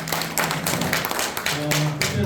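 An audience claps at a New Year workshop, a burst of applause with dense overlapping claps, fairly close and loud, alongside a voice over a microphone.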